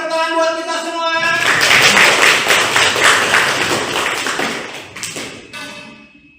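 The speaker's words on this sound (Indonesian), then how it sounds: "tepuk tangan buat kita semua" Classroom group clapping for everyone during a student-centred teaching simulation, a loud dense burst of many hands that starts after a voice with harmonic speech, then fades toward the end.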